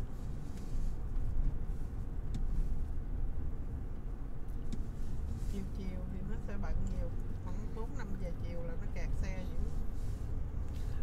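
Busy lunchtime traffic on a street in South Korea, with cars rumbling and passing at moderate distance as a low continuous wash while people talk throughout.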